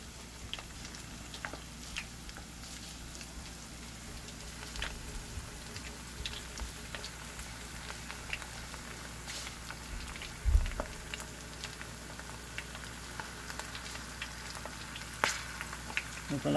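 Coconut-coated shrimp fry in hot oil with a steady, soft sizzle and crackle throughout, plus a brief clatter of a spatula near the middle as loose coconut is skimmed away.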